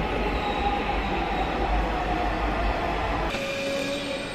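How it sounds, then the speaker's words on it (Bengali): A metro rail train pulls into Motijheel station with a loud, steady rumble and a faint wheel squeal, close by and continuous throughout, with no talk over it. "ট্রেন চলে এসেছে।"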